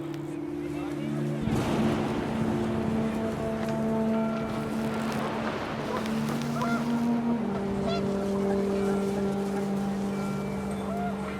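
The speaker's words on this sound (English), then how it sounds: "The wind picked up, and panicked geese appeared and quickly went." In the video game What Remains of Edith Finch, rushing wind carries a flock of panicked geese honking in overlapping bursts, loud and close, over a sustained low tonal drone.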